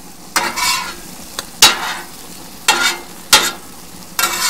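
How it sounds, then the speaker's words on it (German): Ground beef frying on a Weber gas grill, with a faint sizzle beneath four or five sharp spatula scrapes and stirs at irregular intervals. The sounds are close and there is no talking. "jetzt wenn das Hackfleisch angebrutzelt ist"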